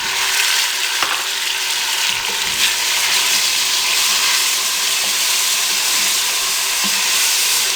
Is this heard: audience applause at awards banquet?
no